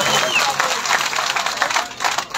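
An audience at a live Sehnsa stage program breaks into brief, scattered applause with uneven bursts of clapping and some voices mixed in.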